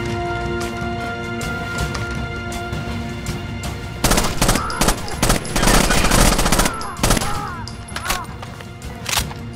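Gunfire in the video game Rainbow Six Vegas 2: loud rapid automatic bursts and single shots, growing denser and heavier partway through, over steady game background noise.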